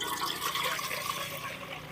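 Water pours steadily from a pot into an idli steamer on the stove, a close, continuous splashing gurgle with no voices.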